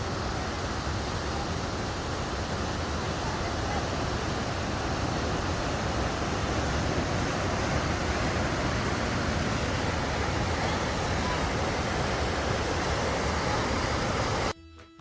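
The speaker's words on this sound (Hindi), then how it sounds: "देखो यहाँ कितना बड़ा वाटरफॉल्स स्प्रिंग है, ये देखिए" A large waterfall in Wild Basin, Rocky Mountain National Park, roars as a steady, loud broadband rush of falling water for the whole stretch, close to the listener, then cuts off abruptly at the very end.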